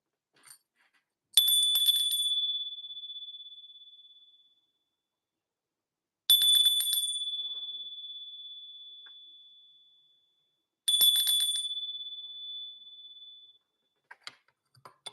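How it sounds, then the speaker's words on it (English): A small bell is struck three times, each clear metallic ring hanging and slowly decaying before the next strike several seconds later, heard alone in near silence. "I am going to ring the bell."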